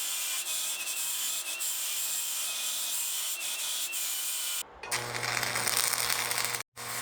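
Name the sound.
grinder with flap disc smoothing steel edge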